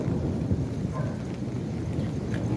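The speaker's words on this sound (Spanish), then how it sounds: "Se dejó venido una tormenta, pero perrona aquí en Xochitlan" A heavy thunderstorm in Xochitlan, Mexico, with steady rain pouring and low rumbling thunder rolling underneath, a constant dense wash with no talking.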